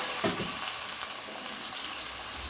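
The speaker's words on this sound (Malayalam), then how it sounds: "ശകലം വെള്ളം ഒഴിച്ചു കൊടുക്കാം." A splash of water hits ivy gourd frying in oil, and a steady sizzling hiss follows, close and even, with a brief stronger burst near the start and no voices.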